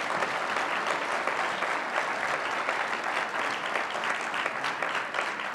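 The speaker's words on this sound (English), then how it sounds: "Let's give these fourth graders a round of applause." Steady audience applause fills the room for fourth graders at a regional science and engineering fair awards ceremony, even and sustained throughout with no talking over it.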